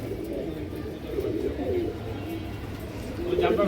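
Old-bloodline pigeons coo softly and steadily nearby on a breeder's farm, a low murmuring under faint background noise and occasional voices.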